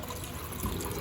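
Water, one and a half cups, pours steadily into a pan on a gas stove for masala oats, a continuous close splashing gush lasting about a second with no talking.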